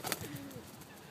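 A pigeon gives a single soft, low coo, faint and brief, outdoors.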